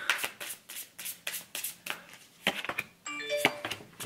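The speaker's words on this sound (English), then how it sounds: "Let's have a chit chat while I'm shuffling the cards." Tarot cards are shuffled by hand in quick, crisp riffling bursts that repeat in a regular rhythm, close and clear, followed by a short bright chime-like ringing near the end, with no talking.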